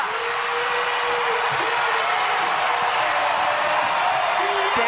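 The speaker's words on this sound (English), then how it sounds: "this crowd making some noise, and it's a 7-0 Utah run" Basketball arena crowd cheering and making noise during a 7-0 Utah run in a women's Pac-12 game against Stanford, a steady loud wash of roaring voices with commentary over it.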